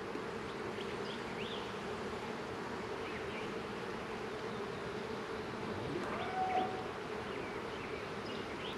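Honey bees buzz steadily around hive frames during a spring hive setup, a dense continuous drone that stays near and even throughout with no talking.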